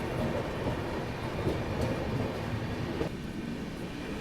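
A passenger train accelerates out of a station yard on the Ratlam to Delhi run via Kota, giving a steady, close, heavy rumble with faint clatter throughout and no voices.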